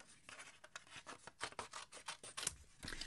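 Scissors snip through a 4 1/4 by 5 1/2 inch paper card panel, close up, in a quick irregular run of crisp cuts and rustling slides with no voices.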